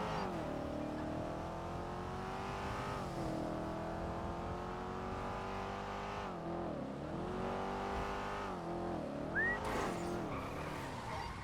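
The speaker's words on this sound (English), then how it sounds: "Hard braking." Car in a GTA game braking hard and skidding on a city street, engine tone sweeping up and down with tire squeal near the end, loud and continuous with no talk.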